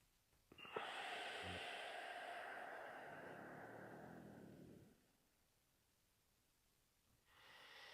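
One long, deep breath drawn in and let out through the nose during a breathwork meditation: a sharp sniff starts a sustained airy rush lasting about four seconds, then quiet, then a fresh soft intake at the end.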